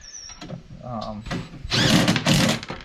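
A DeWalt power tool tightens the 10 mm handle bolts on a Chapin 8701B seeder planter, with a short whirring burst and then a longer loud buzzing run, mixed with speech.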